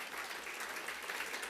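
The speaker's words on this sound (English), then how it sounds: "give yourselves a big round of applause" A brief stretch of conference audience applause, a soft, even patter of many hands clapping at a distance with no talk over it.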